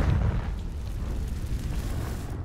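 A Confringo fire spell explodes in Hogwarts Legacy, a loud, dense rumbling boom that stays heavy and continuous for the whole stretch.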